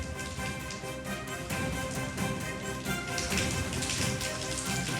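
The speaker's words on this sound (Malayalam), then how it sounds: "ഇന്നലെ ഉച്ചയോടുകൂടി തുടങ്ങിയ മഴയാണ്." Heavy monsoon rain falls in the hilly Kozhikode region, a dense continuous hiss of drops pattering on surfaces, steady and fairly loud with no voices.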